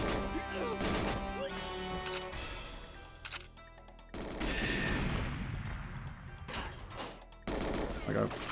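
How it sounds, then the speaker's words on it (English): Gunfire in the N64 game GoldenEye 007, dense loud shots and crashing impacts layered over game music, with bursts that cut out and resume several times. "I gotta shoot here."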